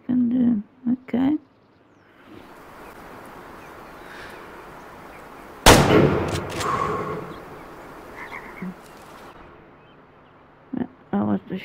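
A rifle fires at an animal in the hunting game Way of the Hunter, one sharp loud crack followed by a fading rumble and tail of ambience, with someone talking briefly before and after.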